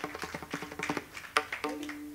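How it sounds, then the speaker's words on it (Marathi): Audience in a Marathi Warkari kirtan gathering clapping for a family, a quick run of close hand claps with a brief sharper clap near the end, over a low steady tone. "या परिवारासाठी जोरदार टाळी वाजवा."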